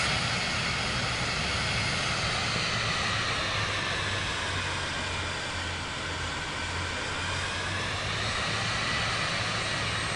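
Aircraft engine droning steadily on approach to land on a runway in Microsoft Flight Simulator 2024, a continuous loud even hum with a low tonal note throughout and no speech.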